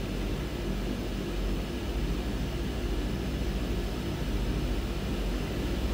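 Twin Otter airplane engine while taxiing, a steady broadband roar with a low hum, loud and unbroken with no talk.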